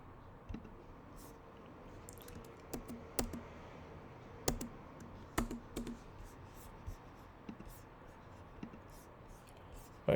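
Pen or marker scratching out an equation by hand, a series of short scattered strokes and taps, fairly faint and close.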